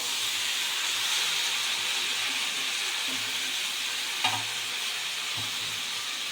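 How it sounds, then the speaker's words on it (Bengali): Spices fry in a pan with a steady, hissing sizzle while a utensil stirs them, adding soft scrapes and one sharper knock against the pan, all close and continuous. "এর মধ্যে নাড়াচাড়া করে দিতে হবে, একটু কষে নেব।"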